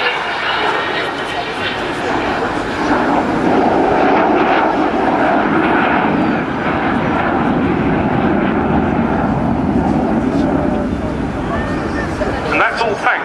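The Avro Vulcan XH558 jet bomber flies past at an air display, a loud, broad jet roar that sustains throughout, with a narrator speaking over it.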